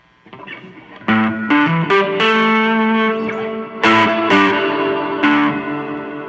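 A distorted electric guitar through a high-gain distortion pedal, gain set low, plays a series of chords and notes with a gritty, saturated tone and some sustain between strums.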